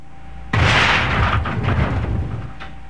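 Deliberately weakened liquefied gas tank bursting in fire: a sudden loud, close blast followed by a deep rumbling roar that slowly fades.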